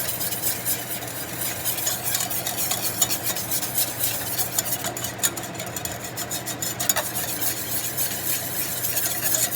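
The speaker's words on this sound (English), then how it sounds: "You just want to mix it in really well right away so it doesn't get clumpy." Continuous scraping and swishing of a utensil stirring gelatin into a raspberry fruit mixture in a pan over low heat, with faint sizzling and occasional metallic clinks throughout.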